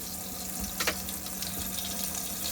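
Water runs steadily from a pump-fed sink tap in an Adria Twin 600 SPB campervan, a constant close splashing rush with a faint tonal hum beneath.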